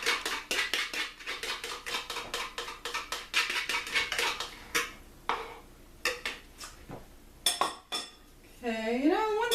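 A utensil clinks rapidly against a bowl while eggs are whisked for a pumpkin pie, a fast, even run of metallic taps that breaks into scattered knocks and a brief squeak near the end.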